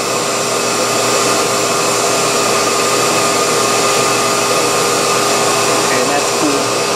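Steady roar of a homemade vacuum thermoformer pulling suction on a heated Kydex sheet around knife blades, a loud continuous whooshing drone with a fixed pitch and no breaks.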